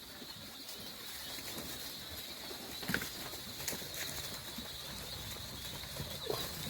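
Young game birds about two weeks old, kept by a gamekeeper, give faint, scattered chirps and calls amid a soft background hum, with a few louder knocks and rustles.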